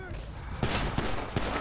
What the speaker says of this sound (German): Okay, Schüsse fallen, Schüsse fallen.